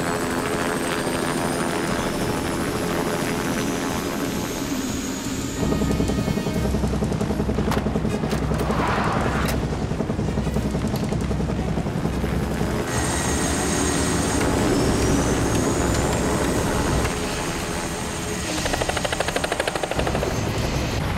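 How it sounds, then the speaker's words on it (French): Helicopters starting up and taking off, a loud continuous rotor thrum and turbine whine close by, with engine pitch shifting and layered rotor sounds as more machines join in. "Faites-moi décoller ces hélicoptères tout de suite!"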